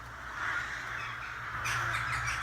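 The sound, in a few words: flock of crows cawing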